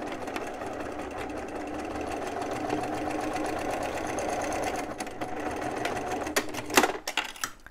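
Sewing machine topstitching on black fabric, a steady rapid mechanical stitching rhythm that runs continuously, close and moderately loud, ending with a few clunks as it stops.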